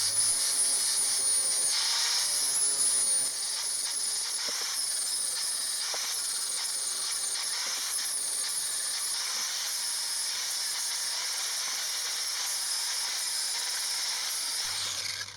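A flap disc on an angle grinder works a steel piece in a garage, a steady loud whirring hiss that runs almost unbroken throughout with no talk.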